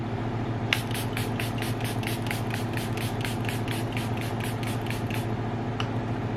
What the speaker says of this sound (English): I'm gonna spray with Charlotte Tilbury setting spray